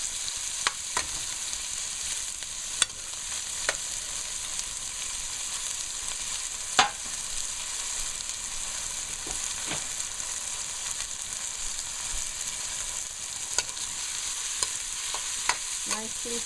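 Seasoning fries in hot oil in a pot for a tomato fish stew, giving a steady low sizzle broken by occasional clicks and scrapes of stirring.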